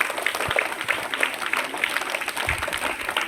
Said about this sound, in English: Give a big round of applause to Aditi.